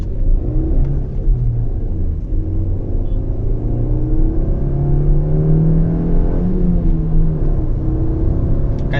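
A Toyota Urban Cruiser's engine pulls at high rpm while driving, a steady loud rumble with a rising whine that holds throughout.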